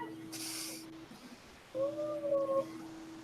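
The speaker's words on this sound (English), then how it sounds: "I love all the meow meows." A cat meows twice indoors at night, a short cry followed by a longer, rising and falling meow, moderately close over a steady low electrical hum.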